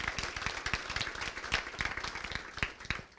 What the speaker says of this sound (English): please join me in a round of applause for eBay for supporting this event